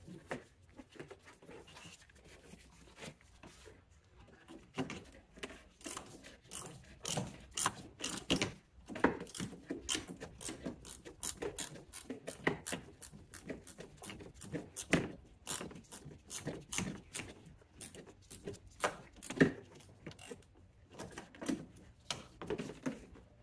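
Ratchet removing T25 bolts from a Chrysler 300 side marker light, with quick bursts of close, faint clicking in irregular runs and no talk.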